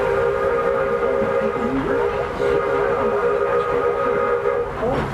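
Walt Disney World Railroad train rumbles along steadily with a sustained whistle-like tone over the rolling rail noise, loud and continuous throughout.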